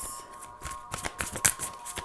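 Oracle cards from a starseed deck being shuffled and drawn, a run of soft riffling flicks and card slaps close by, quiet and alone with no voices.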